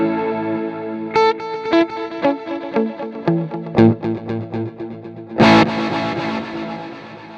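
Electric guitar through an Axe-Fx II multi-delay set to the Plex Detune effect at default settings: picked notes and chords bloom into a shimmering, detuned wash of repeats, loud and close, trailing into a sustained pad.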